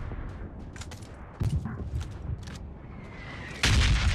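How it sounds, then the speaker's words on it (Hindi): Bombardment in PUBG Mobile: bombs fall in a series of dull booms and impacts, some distant and muffled, and the loudest blast lands near the end. "बम गिर रहा है भाई"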